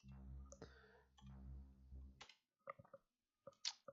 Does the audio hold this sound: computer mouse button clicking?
yes